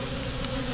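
A close, continuous buzz comes from a crowd of bees at their hive, disturbed while a beekeeper lifts pollen with a tool, the hum holding steady and dense throughout.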